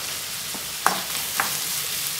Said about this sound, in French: Donc je laisse colorer mes oignons pendant environ 5 minutes